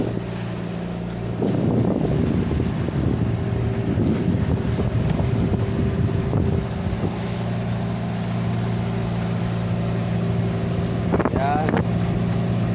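Motorboat engine running steadily while the boat heads out to open sea for fishing, a continuous low drone with wind noise over the microphone and water splashing throughout.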